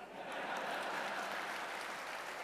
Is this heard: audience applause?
yes